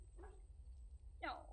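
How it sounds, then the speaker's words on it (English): A dog in the video game Dragon Age: Origins gives two short, close yelps or whimpers, one near the start and a louder one near the end, over a low steady background hum. "Oh, so cute doggy."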